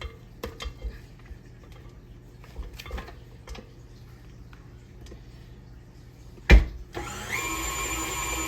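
A spatula scrapes frosting from the bottom of a mixing bowl with soft, intermittent strokes, broken by one sharp clatter and followed by brighter, steady scraping near the end.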